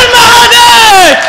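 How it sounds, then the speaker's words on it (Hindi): Loud crowd at a Hindi poetry recital roaring and whooping in enthusiastic cheers, a dense swell of voices with rising shouts filling the whole moment. "एक बार जोरदार तालियां"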